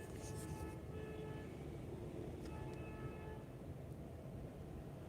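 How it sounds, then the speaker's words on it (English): Several horns honk in bursts over a steady low traffic rumble, with tonal blasts near the start and again around the middle, fairly distant and with no talking. "That was a lot of horn honks."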